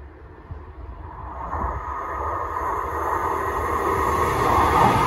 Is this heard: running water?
no